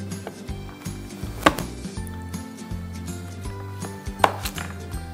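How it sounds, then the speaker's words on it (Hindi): A knife cuts a zucchini lengthwise down the center on a board, giving two sharp, brief taps a few seconds apart over steady background music. "You just cut the zucchini down in the centre, centre से काटें आप."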